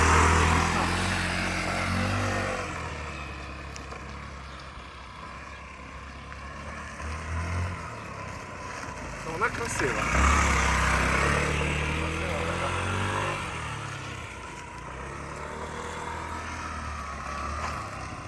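A Yamaha Jog SA57 fuel-injected scooter engine idling and running steadily, a low droning hum throughout with a brief rev in the middle, while someone talks over it.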